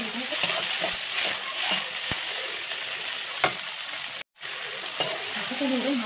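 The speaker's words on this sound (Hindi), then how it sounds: "इसमें हम टमाटर डालेंगे और इसमें टमाटर डालेंगे" Tomatoes sizzle in a frying pan while kadai paneer is cooked, making a steady close hiss of hot oil broken by occasional sharp taps and scrapes of stirring.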